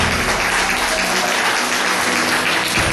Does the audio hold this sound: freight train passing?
no